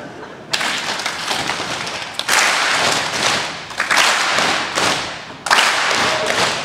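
Hambone body percussion, hands slapping chest and thighs in a quick rhythmic pattern, loud and close, with bursts of sharp slaps and brief pauses between phrases.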